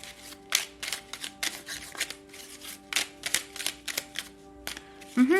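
Tarot cards are shuffled by hand in quick crisp riffling bursts that repeat in an uneven rhythm, close and clear over a faint steady hum, with a brief tonal sound at the very end.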